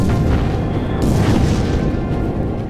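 A heavy explosion in the World War II naval game Battle Stations Pacific as an anti-air gun is destroyed, a loud continuous rumbling boom with dense low-end roar filling the whole stretch, no voices.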